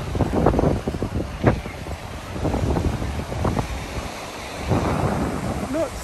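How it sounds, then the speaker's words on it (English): Gusty sea wind at Sunny Sands Beach in Folkestone, Kent, buffets the microphone in deep, rumbling bursts that rise and fall across the whole stretch. "And here we are at Sunny Sands Beach here in Folkestone in Kent."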